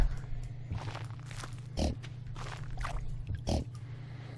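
Pigs on a farm in the Stardew Valley video game give short oinking grunts, three or four evenly spaced bursts over a low steady background hum, moderately quiet with no talking.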